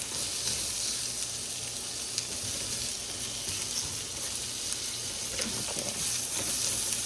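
A piece of steak sizzles in a frying pan, a constant bright crackling hiss with small pops, heard alone without voices.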